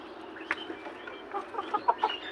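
Sonali chickens cluck softly in short, scattered bursts on a rooftop farm, fairly quiet against a low background hum.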